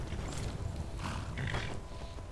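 A horse in the video game Skyrim, heard as a steady mix of hoof clatter and breathy snorting over continuous game ambience, fairly loud and close, with no one talking.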